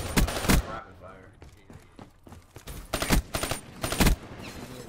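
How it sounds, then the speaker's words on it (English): A video game gun fires rapid bursts of loud, close shots: a burst at the start, quieter mechanical sounds in between, then several more bursts near the end. A voice talks over the shooting. "Because I think this gun needs rapid fire."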